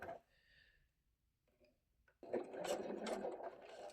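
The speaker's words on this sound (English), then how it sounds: "My machine probably needs a service. It keeps making a noise, which it doesn't normally do." A domestic sewing machine stitching a zipper pouch along a quarter-inch seam, running with an unusual noise: a few soft clicks and handling sounds, then a close, steady mechanical whirr of stitching.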